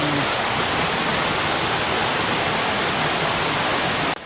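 Continuous rushing water from a farm stream in Salcedo, a dense steady wash of sound with no pauses, close by and fairly loud.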